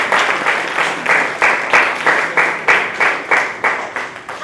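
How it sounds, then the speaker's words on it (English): An audience claps to welcome a guest at a leadership reading event, a loud, close burst of applause pulsing in rhythmic waves of many hands, with no one speaking over it. "So clap so we can welcome her."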